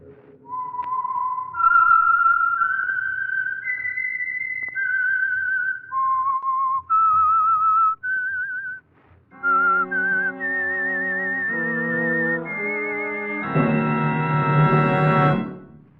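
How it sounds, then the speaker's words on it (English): Whistled theme signal of The Whistler, the Signal Oil radio program: a lone clear whistled melody with sustained, gliding notes, then fuller orchestral chords swelling loudly at the end. "That whistle is your signal for the Signal Oil Program, the Whistler."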